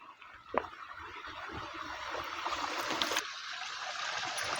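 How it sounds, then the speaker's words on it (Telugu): Water from a small mountain spring trickles and burbles steadily at close range, with a brief knock near the start and no talk. "ఓ నీళ్ళు పోతున్నాయి"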